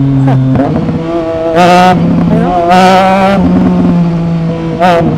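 A 2025 Triumph Trident 660 motorcycle fitted with a new aftermarket exhaust revs up close and loud, three sharp throttle blips rising over a steady idle, with a voice talking briefly.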